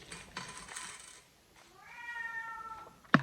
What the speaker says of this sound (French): Vous entendez mon chat.